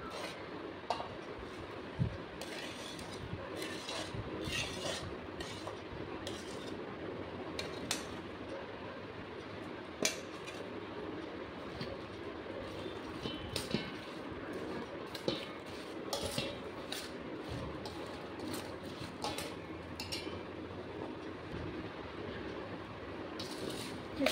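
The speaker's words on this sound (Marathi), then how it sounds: "हे छान हलवून घ्यायचं आहे लोणचं" Mango pickle gets stirred with a spoon in a vessel, producing faint, scattered metallic clinks and scrapes over a low steady background hum, with no one talking.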